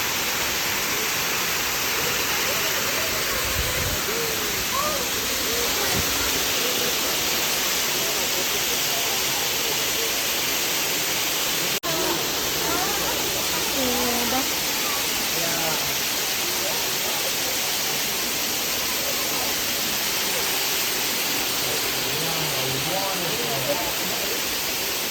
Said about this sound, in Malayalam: നല്ലൊരു ഫോൾസാണ് ആക്ച്വലി